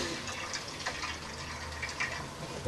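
Water drains out of a pipe after a gas meter is removed in an apartment building, a faint, steady trickling gush with small bubbling surges.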